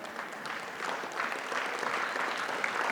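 Steady applause from a large audience at a nonprofit fundraising gala, dense and continuous for the whole stretch, with no voices rising above the clapping.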